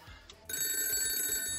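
A telephone rings in an anime scene, a bright, sustained electronic ring that cuts in abruptly after a short quiet moment and continues loudly to the end.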